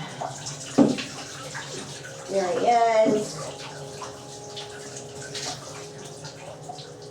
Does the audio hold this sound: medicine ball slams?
no